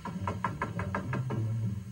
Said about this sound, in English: they heard somebody knocking on the door